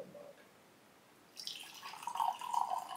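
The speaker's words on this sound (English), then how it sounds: "And then pour the coffee in an old mug." Coffee poured from a Delonghi Clessidra filter drip carafe into an old mug, a quiet start giving way to a steady close trickle of liquid that grows slightly louder toward the end.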